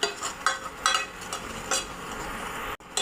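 Besan (gram flour) stirred and roasted on low heat in a pan, with repeated scraping strokes of a spoon against the metal and a soft sizzle underneath, a brief dropout near the end.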